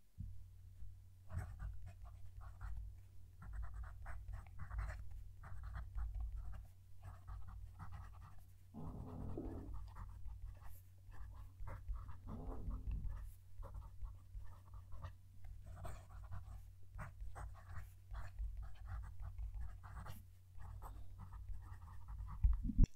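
A stiff fountain pen nib from a Chinese pen scratches steadily across paper with a close, pencil-like scratch, a continuous run of short strokes with brief pauses, recorded right at the page.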